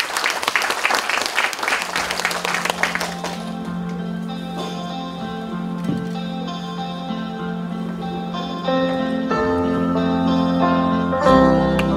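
Applause from an audience at a Korean poetry book launch, dense clapping that opens strongly, then fades and continues underneath sustained musical tones that take over the rest of the stretch.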